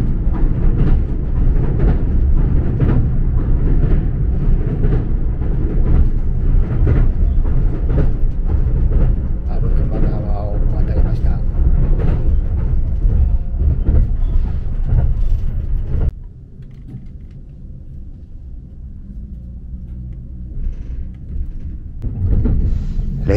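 Onboard the Hitachi limited express train, a steady loud rumble of wheels and running noise fills the cabin for about sixteen seconds, then drops to a quieter hum before building again as the train moves off.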